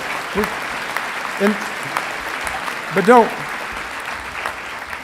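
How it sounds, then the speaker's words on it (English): Soft scattered clapping from the crowd at a veterinary graduation hooding ceremony, faint and diffuse in the background, with a couple of brief voice sounds rising over it. "You should clap."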